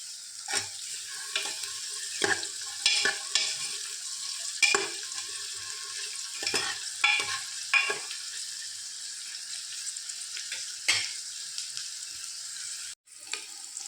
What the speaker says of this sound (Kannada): ಈಗ ಕುಕ್ಕರಲ್ಲಿ ಸ್ವಲ್ಪ ತುಪ್ಪವನ್ನು ಇಟ್ಟು 1 ನೀರುಳ್ಳಿ